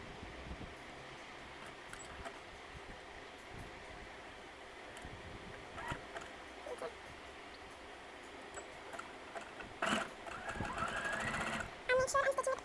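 A sewing machine runs a zigzag stitch in bursts of rapid mechanical clatter, moderately close, with faint handling noises and a louder stretch of stitching near the end.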